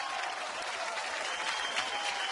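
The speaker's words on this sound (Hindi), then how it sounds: "इनके लिए जोरदार तालियां हो जाए।" Loud, dense applause from an awards show audience fills the whole short stretch, a steady wash of many hands clapping with no break.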